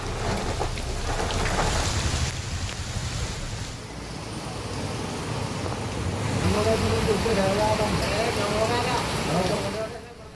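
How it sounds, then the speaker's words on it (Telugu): Steady rain falls over the city of Secunderabad during a wet, overcast spell, giving a continuous dense hiss that stays fairly loud and even throughout, with no voices. "ముసురుగా వర్షం కురుస్తోంది"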